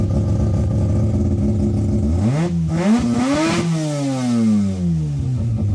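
Mazda RX-7 with a Wankel rotary engine revving hard, its pitch climbing sharply then sliding back down as the throttle is released, loud and close with no talk.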